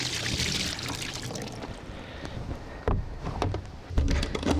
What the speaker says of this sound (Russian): Прям в ведро выльем все.